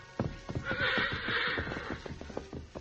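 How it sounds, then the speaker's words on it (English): A horse whinnies loudly and close in an old-time radio western drama, the neigh rising and trembling over a few quick hoof clops and stamps. "About 5 minutes passed, and then Victor, who had been stomping and snorting in his stall, broke his halter and trotted over to his young master"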